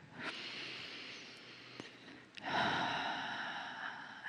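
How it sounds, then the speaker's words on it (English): A slow, deep breath drawn and released during a guided meditation session, soft and close with a gentle rushing inhale followed by a fuller exhale, no talking over it. "Take another breath."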